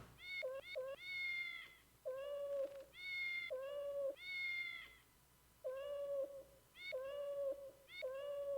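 A cat meows repeatedly, about eight clear, drawn-out calls in an irregular rhythm, close and distinct against a quiet background.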